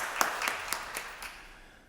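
A handful of claps at a Pittsburgh Bureau of EMS promotion ceremony, a few sparse separate hand claps in a quiet room that fade over under two seconds.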